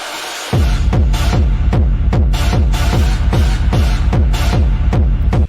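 Techno track built on a rave stab: loud, steady four-on-the-floor kick drums under repeated chord stabs, driving and dense from start to finish.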